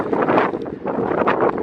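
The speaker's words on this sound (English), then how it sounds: "you can tell how windy it is." Wind in freezing, snowy weather buffets the microphone in loud, rumbling gusts that swell and ease without pause.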